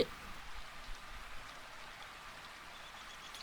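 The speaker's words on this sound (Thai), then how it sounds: "แล้วมันฝนตกขนาดนี้กระดาษไม่เปียกแล้วเนี่ย" Soft, steady rain in a video game, falling with a faint hiss and light patter, quiet and continuous, no voices.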